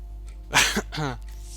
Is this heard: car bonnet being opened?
no